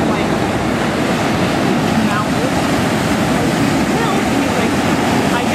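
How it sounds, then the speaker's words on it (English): Ocean surf rolling onto the shore on the Los Angeles coast, heard as a steady, dense wash of breaking waves mixed with wind buffeting the microphone, continuous and fairly loud throughout. "I'd say tide's coming in."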